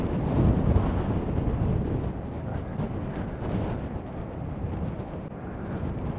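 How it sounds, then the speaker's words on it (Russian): Strong storm wind blows at the sea at Vityazevo near Anapa, roaring steadily and buffeting the microphone as a continuous loud rumble with no pauses. "Потому что дует очень-очень сильно."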